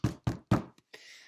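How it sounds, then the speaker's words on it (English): Three heavy, evenly spaced bangs strike a wooden door up close, followed by a faint tap and then a brief hiss. "He bangs on the door."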